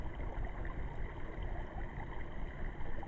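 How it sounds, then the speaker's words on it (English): A small outdoor stream beside a trailer on a cold day, its water giving a steady, broadband rushing wash with a low rumble that never lets up, close and fairly quiet, with no voices. "If you listen closely, you can actually hear water."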